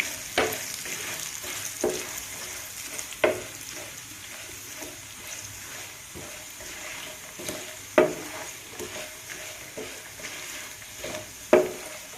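Tempering spices with turmeric, curry leaves and dried shrimp sizzle and fry in a pan for an amaranth-leaf dried shrimp stew, with a soft continuous crackle broken by sharp spoon scrapes and clinks every few seconds.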